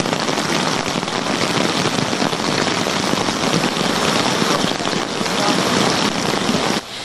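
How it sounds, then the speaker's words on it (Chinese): Heavy rain from a rainstorm pours onto a Taichung street, a loud, dense, continuous hiss of drops striking the pavement that drops off abruptly at the very end. "雨势大到人孔盖无法负荷，瞬间大雨"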